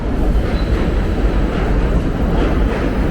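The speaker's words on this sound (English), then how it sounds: "here's another train bypassing DeKalb" A New York City subway train passes through DeKalb Avenue station without stopping, a loud, close, continuous rumble of wheels and cars with faint clatter.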